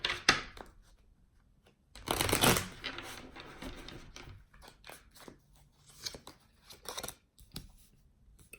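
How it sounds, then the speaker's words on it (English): Quick riffling shuffle of tarot cards, a dense papery burst in the middle followed by scattered soft taps and flicks, close and fairly quiet. "I'm going to shuffle one more time."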